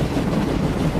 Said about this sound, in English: I don't understand why the train sounds really loud here and the train's not here